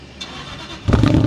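An old country-club cruiser car cranks and then catches, its engine firing into a loud, rough start close by at the end of the clip.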